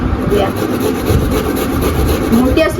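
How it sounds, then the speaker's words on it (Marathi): Coconut is rubbed over a small hand grater. The scraping is continuous, rough and close, and stays loud for the whole clip. There is no clear talking. "खोबरं किसून घेते थोडं खोबरं माझ्याकडे हे किसणी पण छोटी आहे मोठी नाही"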